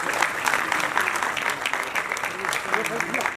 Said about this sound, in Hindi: जोरदार तालियों से उनका स्वागत है।